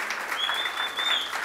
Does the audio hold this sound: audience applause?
yes